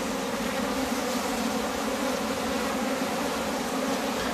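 A dense swarm of honeybees drones continuously around a newly introduced queen during a queen change, forming a close, steady buzzing hum with no voices.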